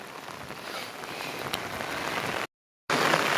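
Heavy rain pours by the rough sea at Fraserganj near Bakkhali, a dense steady hiss of drops on surfaces that builds slightly, breaks off briefly, then resumes, with no talk.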